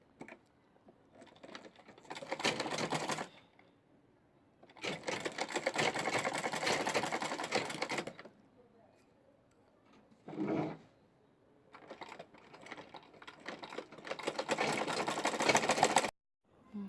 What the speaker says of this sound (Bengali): কাপড়টা উল্টা করে আমরা এখন দুই সাইড সেলাই দিব